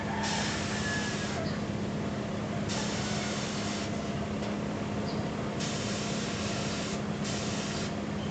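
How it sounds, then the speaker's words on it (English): Steady airbrush hiss spraying paint onto a paper box in several bursts, close and continuous with brief changes in intensity, no talking. "Spray it first out on the paper box."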